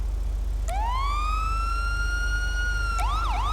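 A second-stage police siren in a police role-play video game sweeps up into a long sustained wail, then shifts into quick up-and-down whoops near the end.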